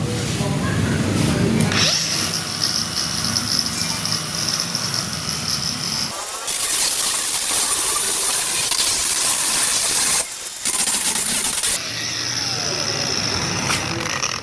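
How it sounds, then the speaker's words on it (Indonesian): Angle grinder working over an MMA weld, a loud continuous high whine and hiss that shifts in pitch as the disc bites, with brief pauses and restarts, close up. "Dan ini kita akan gerinda ya"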